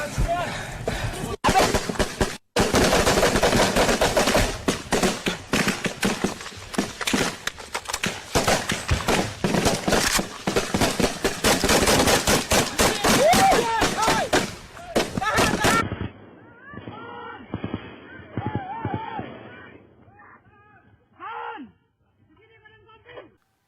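Dense, loud explosions and rapid gunfire crackle and boom continuously for about sixteen seconds, then cut to quieter, sparser sounds with scattered sharp bangs and a few faint voices.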